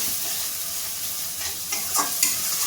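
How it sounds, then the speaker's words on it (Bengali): Ground turmeric, coriander and cumin stir-fried in a hot pan: a continuous loud, hissing sizzle with scraping stirring strokes and a few sharper scrapes near the end, with no voices. "এবার আমি মশলাটাকে ভালোভাবে কষিয়ে নেব"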